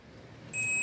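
A multimeter gives a continuity-test beep across both ends of a spliced wire: a single steady electronic tone starting abruptly and continuing to the end, against a quiet background.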